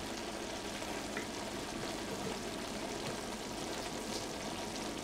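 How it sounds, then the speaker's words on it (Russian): Hot water carrying melted beeswax trickles and streams out of a pressed wax-rendering bundle, a steady close wet hiss and drizzle with no pauses and no speech. "И снова бежит вода с воском."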